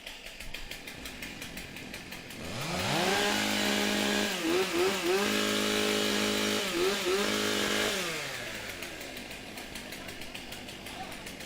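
Several chainsaws rev and warm up before a women's stock saw timbersports race at a New Zealand championship, engines swelling to a loud overlapping whine with repeated throttle blips, then dropping back to idle.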